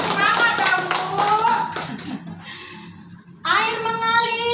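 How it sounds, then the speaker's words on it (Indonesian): An audience at a women's preaching competition claps hands in a brisk burst of applause for about two seconds, then a voice carries on speaking. "Mana tepuk tangannya?"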